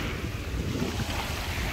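Sea waves washing onto a pebble beach at Dagomys, Sochi, a steady faint rushing wash with wind noise and no clear breaks.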